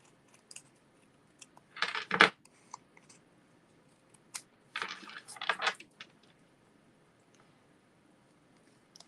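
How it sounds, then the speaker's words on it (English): Scissors snip off the edge bits of paper in a stamping craft session, two brief bursts of close crisp cutting separated by a pause, with quiet handling between them. "I'm just going to snip off these edge bits"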